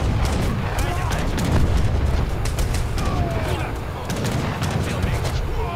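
A bomb blast in the strategy game Age of Empires III: The Asian Dynasties, heard as deep booming explosions and crackling gunfire-like battle noise in a steady loud rumble, with a voice talking over it.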